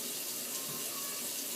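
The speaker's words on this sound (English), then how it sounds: "You can scrub it real good with a little bit of soap on it. And then make sure you rinse it all off." Tap water runs steadily into a sink while produce is rinsed and scrubbed with a small brush and dish soap before juicing. The flow is a continuous, moderately close splash with no talking.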